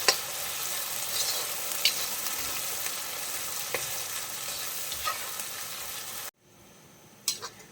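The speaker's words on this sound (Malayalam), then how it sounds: "ഇതും കൂടി നമുക്കൊന്ന് നന്നായിട്ട് മൂപ്പിച്ചെടുക്കാം." Peeled garlic and finely chopped ginger fry in hot oil for a beef pickle, giving a steady close sizzle with stirring scrapes that cuts off sharply near the end, followed by a few faint clinks.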